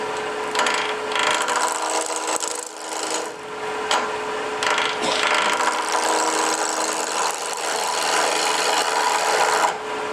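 A gouge cuts into wood spinning on a lathe for a winged box, giving a steady, close rasping and scraping that runs continuously with slight surges as material is removed.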